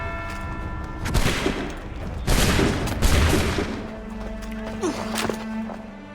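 Muskets fire in volleys during an Assassin's Creed 3 battle, with several sharp, loud crackling bursts in uneven succession, each ringing out before the next, over a faint background hum.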